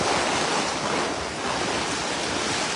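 Strong floodwater current rushes continuously during a village flood in Lemery, Batangas, a loud, dense roar close to the microphone with wind buffeting mixed in and no talk.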